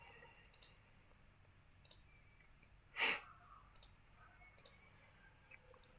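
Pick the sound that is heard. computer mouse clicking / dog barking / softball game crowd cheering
computer mouse clicking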